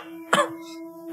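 A person coughs twice, short sharp bursts near the start and end of a brief moment, close to the microphone over a steady tonal hum.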